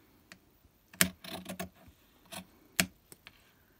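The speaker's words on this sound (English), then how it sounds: "So cut a 7-inch piece of ribbon." Scissors cut through a piece of ribbon, giving a few close, crisp snips and a short rustle between them, with quiet gaps in between.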